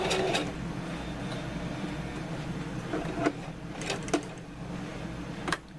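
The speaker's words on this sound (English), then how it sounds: "we're going to run a stitch right across here" An electric sewing machine stitches a cargo strap, running as a steady mechanical hum with a few sharp clicks as the stitching stops and starts, close by and with no voices.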